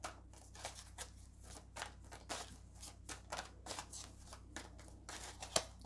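Tarot cards are shuffled and pulled from the deck, a close, quiet series of soft riffling slaps and flicks in an irregular rhythm, ending with a single sharper snap.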